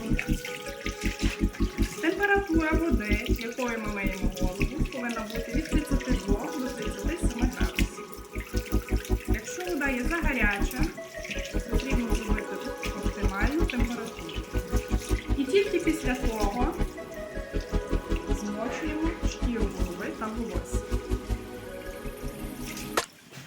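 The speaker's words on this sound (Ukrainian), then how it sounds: "Відкриваємо кран і пробуємо на руку чи тепло." Water runs steadily from an opened tap at a barbershop sink before a man's hair is washed for a cut, a continuous splashing rush under a rhythmic music-like pulse that lasts throughout.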